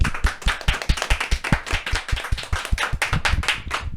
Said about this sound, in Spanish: Comenzamos este programa con un fuerte aplauso.